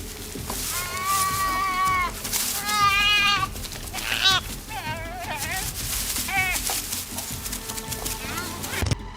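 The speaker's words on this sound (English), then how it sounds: "Panic spreads through the sheep, and they scatter everywhere." Sheep bleat in panic as wolves attack the herd, with several loud, wavering cries overlapping in quick succession against a rough, noisy outdoor background of movement and thuds.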